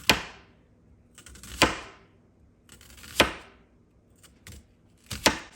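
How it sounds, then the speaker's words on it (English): A knife slicing through onion on a board for a sheet pan dinner, four crisp separate cuts spaced about every second and a half, close and clear with quiet gaps between, no talk. "Slice up some onion."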